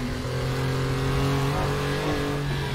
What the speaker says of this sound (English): It sounds great though, these air cooled engines